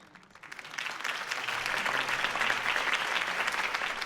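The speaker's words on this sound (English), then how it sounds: "If only Mr. Wayne, my campaign's largest backer, could have heard that applause" Crowd applause at a political campaign rally for Harvey Dent in Batman: The Telltale Series, rising quickly from quiet into a full, steady burst of clapping that holds to the end, no voices.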